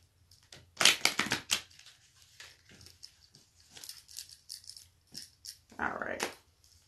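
Tarot cards being shuffled in crisp, uneven bursts of riffling and tapping, loudest at the start and again near the end, with short quiet gaps between.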